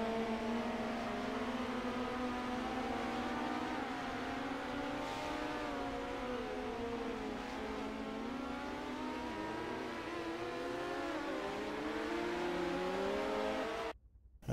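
Midget race cars roar around an oval in a sim racing game, several engines droning together with steady rising and falling pitch, loud and continuous, cutting out abruptly at the very end.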